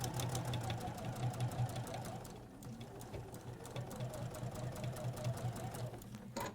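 A sewing machine with a walking foot attached runs steadily while quilting a layered quilt, a close rapid mechanical stitching hum that drops briefly midway, then picks up again and stops near the end.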